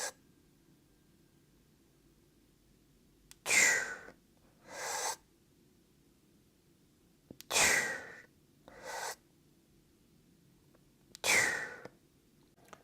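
Close, audible breathing during a dumbbell lower-body exercise: three paired breath cycles, each a sharp inhale followed by a softer exhale, separated by quiet pauses over a faint low hum.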